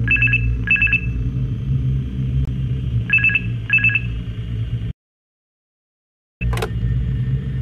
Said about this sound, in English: I'm going to be quiet during the phone call.